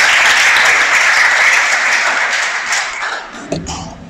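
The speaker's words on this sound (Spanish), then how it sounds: "Vamos a darle un aplauso a nuestro Dios." Church congregation applauding for God, a dense, loud wash of many hands clapping that holds steady and then tapers off over the last second.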